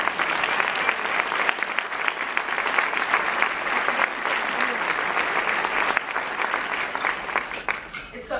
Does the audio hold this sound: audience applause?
yes